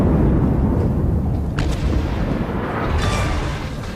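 Naval shells hit and blow up a destroyer in World of Warships, a loud rumbling barrage of booming impacts and explosions with a couple of sharper blasts.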